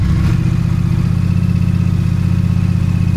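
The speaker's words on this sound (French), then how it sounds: "vous faites chauffer la moto" A Yamaha Ténéré motorcycle engine idles steadily while warming up in a garage, a loud, close, even rumble that holds for about three seconds before cutting off abruptly.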